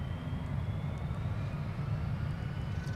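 A Sun Country airliner taxis at Minneapolis–Saint Paul airport, a steady low jet engine rumble with a faint high whine, heard from a distance and unbroken for the full span.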